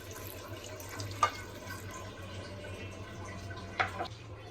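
A cup of water goes into a pot of dal with okra being cooked, with two short splashy pours standing out over a steady low kitchen hum.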